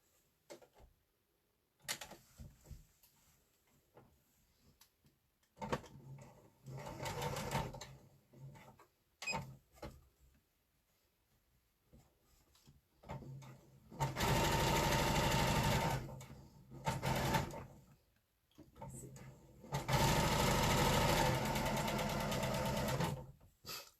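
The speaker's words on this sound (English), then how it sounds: "I'm just going to sew directly on the line" Sewing machine stitching squares for a quilt tulip block, several rapid chattering runs of varying length separated by quiet handling pauses, close and fairly faint.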